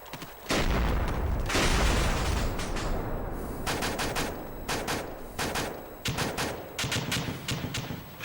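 Dense video-game gunfire and explosions: a loud booming blast followed by rapid bursts of automatic fire and repeated sharp shots, close and continuous with no talk.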